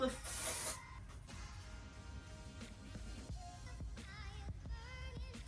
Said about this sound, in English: So I will take my hair and I just take one finger, lift it up, and just spray underneath.